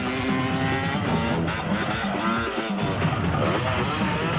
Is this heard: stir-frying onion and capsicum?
no